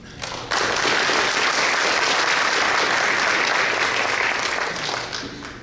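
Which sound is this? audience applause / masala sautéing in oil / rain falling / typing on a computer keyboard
audience applause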